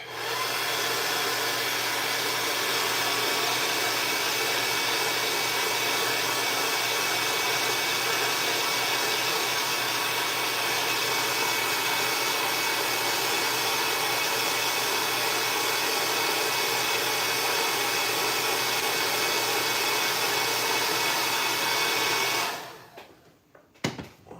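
Heat gun set to its heat setting, blowing steadily and loudly on material for about 22 seconds as a constant broadband roar, then switching off abruptly near the end.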